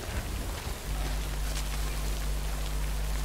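Steady rain falls in the Death Stranding video game, a constant hiss with a low droning hum running underneath it through most of the stretch.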